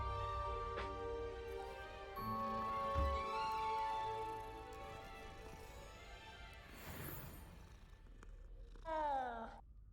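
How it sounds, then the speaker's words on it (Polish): A cat in Hogwarts Legacy purring close and steady, joined by clinking and a brief crash, with a short meow-like cry near the end. "Kotek."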